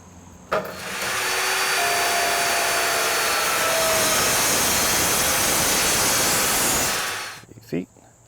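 A power tool cuts a metal baseboard heat cover, a loud, steady, harsh whirring grind that runs continuously for about seven seconds up close before stopping abruptly.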